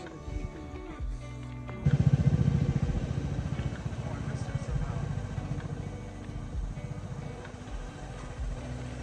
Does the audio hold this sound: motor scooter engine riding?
yes